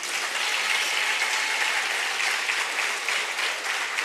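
An audience at a commemorative theatrical presentation applauds, a loud, even roll of many hands clapping that holds steady and uninterrupted throughout.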